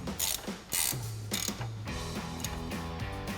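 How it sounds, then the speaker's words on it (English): An 18mm ratchet wrench with an 8mm socket tightens a nut on a RAM 1500 TTX front lower control arm and ball joint, giving bursts of rapid clicking ratchet strokes, close and fairly loud, with no talk. "Then we'll grab our 18mm ratchet wrench and our 8mm socket."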